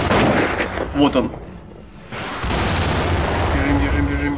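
Sharp sniper gunshot blasts ring out amid rumbling game noise in the video game Grom: Terror in Tibet, with someone speaking briefly between the shots.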